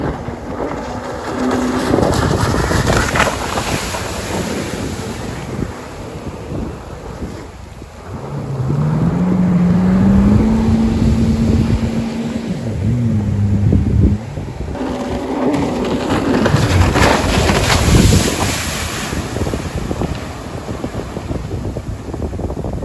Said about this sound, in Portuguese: Vou vir lá de baixo, acelerando tudo e puxar o freio para vocês verem.